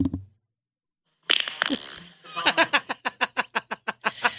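A recorded fart is played back. It opens with a sputtering burst, then a quick, evenly spaced string of short, squeaky pops, loud and close.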